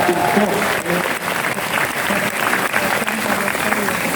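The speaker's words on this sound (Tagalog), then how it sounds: "Parang mahina yung palakpak na pagka sinasabing ko." Audience clapping at a choir concert-for-a-cause event, a steady spread of hand claps throughout, with a voice talking over it.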